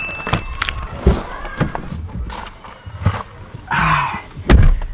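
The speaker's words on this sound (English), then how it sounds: "right now I've got my keys" A bunch of keys jangles and clinks in several bursts, close and loud, with thumps and handling knocks between them.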